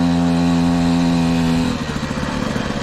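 A moped engine with a stock SPX exhaust runs steadily with a strong buzzing drone, then its tone roughens into a choppier, pulsing idle toward the end.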